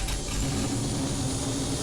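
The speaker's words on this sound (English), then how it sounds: "you are going to hear motor noise that represents the starting success of the engine." A helicopter engine spools up in an Android flight simulator game, a steady, fairly loud mechanical rumble with a low churning undertone that holds even throughout, with no voices.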